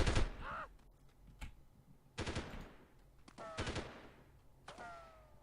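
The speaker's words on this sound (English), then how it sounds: "What are you guys even shooting at?" Gunfire in the 1998 video game Delta Force, several sharp short bursts spaced a second or so apart, each with a ringing tail, over quiet background noise.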